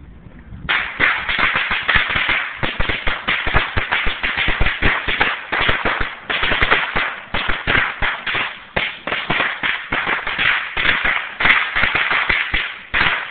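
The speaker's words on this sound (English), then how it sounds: "That looks like a whole dang thing of fireworks, if I'm not mistaken." A long string of firecrackers goes off outdoors in a rapid, dense run of loud, sharp pops and cracks that lasts over twelve seconds.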